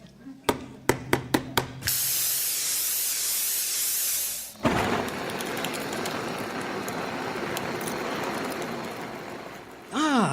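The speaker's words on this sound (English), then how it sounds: "I'll have this tree sprayed before you can..." A spray can hisses in a radio sound effect of a Christmas tree being painted white, a long steady spray lasting a few seconds, then a broader rushing hiss. A series of short sharp knocks comes before it.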